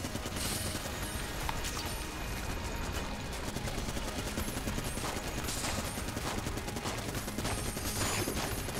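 A damaging gun fires in Enter the Gungeon, a fast stream of faint, crackling shots in rapid succession that runs steadily throughout without letting up.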